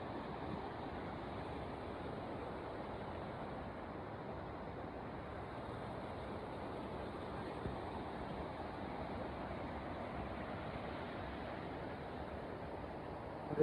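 Water rushes at Nanemachi Waterfall in Maharashtra, a steady, dense roar that never lets up, muffled and soft as though heard through a wet microphone, with no voices.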